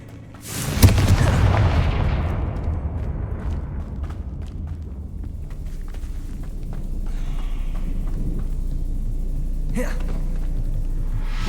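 A Confringo curse explodes in the video game Hogwarts Legacy, a single loud, close blast that swells suddenly and then decays into a long rumbling tail under a steady low hum.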